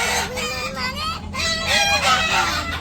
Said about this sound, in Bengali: মুরগিগুলা যে কেমন করে বাবা রে বাবা।